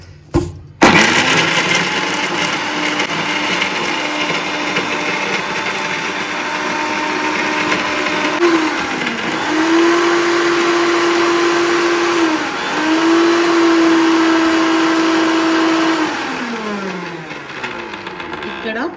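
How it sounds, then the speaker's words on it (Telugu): A kitchen mixer grinder whirs loud and steady as it grinds grated coconut with green chillies, salt and cumin into chutney, the motor pitch shifting as it briefly pauses and restarts in pulses. "మనము కట్ చేసి పెట్టుకున్న కొబ్బరిని కూడా వేసి మిక్సీ పట్టేద్దాం"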